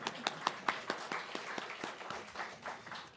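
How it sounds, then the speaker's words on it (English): A small conference audience claps for returning attendees, a short patter of distinct individual claps close by, tapering off within about three seconds. "Oh, a round of applause for all of you."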